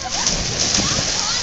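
Splashing in water at a luau, a dense, continuous splatter with a voice talking over it.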